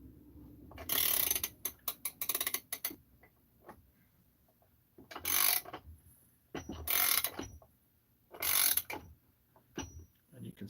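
Ratcheting clicks while bolts are tightened on a Husqvarna 272XP chainsaw crankcase assembly come in several bursts of rapid close ticking, separated by quieter pauses.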